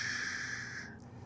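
A long, steady breathy exhalation carrying a hissing, whistle-like tone, made as a medical qigong healing sound during a slow breathing exercise, close and alone, fading out after about a second.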